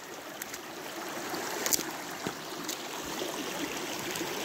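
Water in a small stream flowing and turning downhill through countryside at Gornja Tramošnja, Bosnia, a steady broadband rush with faint trickles, fairly soft and continuous, with no talking.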